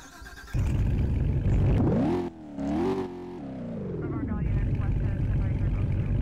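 A Chevrolet Corvette C8 engine starts up in a Roblox driving game, a synthesized engine note that rises, dips and swells in pitch before settling into a steady rumbling idle. Loud and close.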